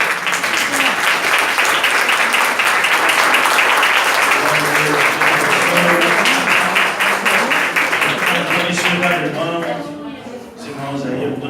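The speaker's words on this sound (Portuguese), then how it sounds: "Vamos aplaudir o Senhor Jesus." A church congregation claps loudly and continuously for several seconds in an indoor worship service, dense applause with voices calling out underneath, tapering slightly toward the end.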